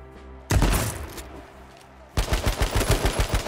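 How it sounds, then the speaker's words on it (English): Shotgun fire in H1Z1: a single sharp, loud blast, then a quieter pause, followed by a rapid burst of repeated gunshots close by. "I don't know why I tried to use a shotgun."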